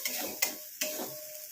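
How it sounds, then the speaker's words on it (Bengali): A spatula scrapes and stirs soft tomatoes and spices sautéing in a pan, three quick close strokes over a steady low sizzle. "ভালো করে কষিয়ে নেব। টমেটো নরম হয়ে গেছে একদম।"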